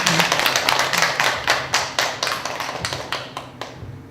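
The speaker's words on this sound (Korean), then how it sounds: "그 축하하는 도면에서 우리 박수 한번 주십시오." A small gathering claps in congratulation, about a dozen fairly sharp, rhythmic bursts of clapping in steady succession that thin out toward the end.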